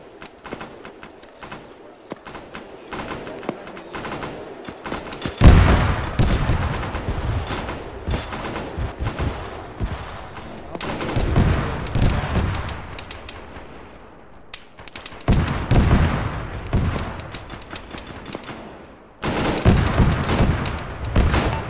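Clusters of gunfire crack through a tense firefight in a ShackTac military video game session aimed at an approaching BMD armored vehicle. Several loud, close booming blasts are spread across about twenty seconds.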